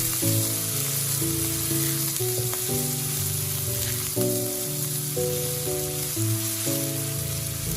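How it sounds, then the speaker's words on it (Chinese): Scallion, ginger, garlic and chili sizzle in a hot wok during a tofu stir-fry, a steady hissing crackle that runs the whole time. Background music plays alongside it. "把葱姜蒜和辣椒全部都倒进来，继续炒香"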